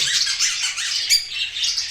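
An albino lovebird parrot squawks in a continuous run of harsh, shrill, close calls, loud and alone with no talking.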